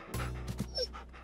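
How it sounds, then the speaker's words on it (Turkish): A cartoon dog pants in a few quick, close, breathy puffs with a slight whimpering edge, heard alone over a short stretch. "Akıllı köpek."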